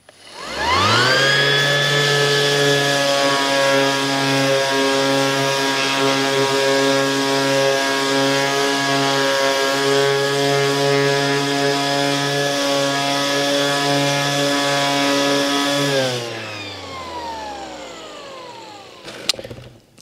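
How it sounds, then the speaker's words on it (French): An AEG BEX18-125 cordless random orbit sander fitted with an 80-grit disc runs at an intermediate speed setting, a loud, steady whine with strong harmonics that holds for about fifteen seconds, then winds down and stops. "C'est une machine qui fait quand même pas mal de bruit, mais comme toutes les ponceuses excentriques"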